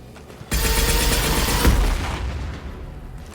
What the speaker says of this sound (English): Firing a high-impact shot. Fire in the hole!